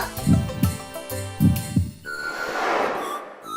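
A heartbeat sound effect pounds in paired thumps, two strong double beats near and loud, before giving way to a soft airy swell of sound at the end.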